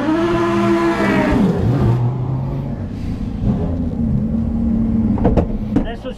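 A race car engine revs with rising and falling harmonic tones, then settles into a rumbling idle with brief sharp bursts near the end, up close.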